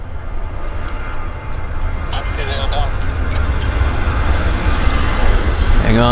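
An airliner at Vancouver airport at full takeoff thrust, its engines a loud, steady, building roar that fills the whole stretch, with a person talking over it.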